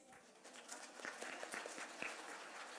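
Audience applause at an Infusion Nurses Society India conference in Kolkata, a steady wash of many hands clapping at moderate distance, fairly faint, with no talk over it.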